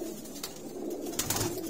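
Soft, low pigeon cooing murmurs steadily through the clip, with faint rustling and a few brief sharper sounds in the background.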